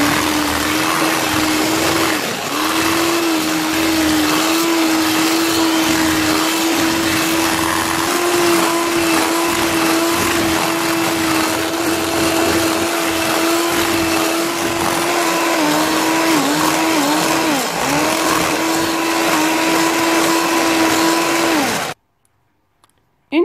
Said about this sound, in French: on va prendre notre batteur et on va battre le mélange sucre jaune d'œuf